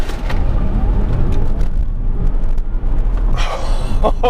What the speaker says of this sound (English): we're gonna accelerate from 0 to 60 and in ludicrous plus mode and release the brake